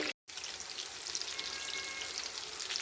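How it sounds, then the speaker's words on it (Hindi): Peshawari chapli kababs fry in a pan with a loud, constant crackling sizzle, near and steady, with a brief cut to silence right at the start and no talking. "चपली कबाब बहुत अच्छे से फ्राई हो चुके हैं दोनों साइडों से"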